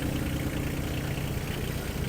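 Small Kubota XB1 compact Japanese tractor with a 12 hp engine idling at a tractor sales yard, a steady low rumbling chug that runs evenly and close by with no break.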